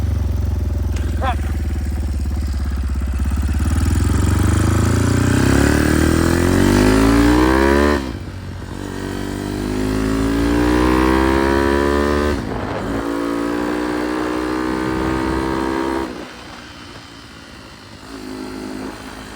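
A Honda XR dirt bike engine pulls away in first gear at elevation near Moab, revving up in loud rising surges that break off between shifts. Wind noise runs throughout.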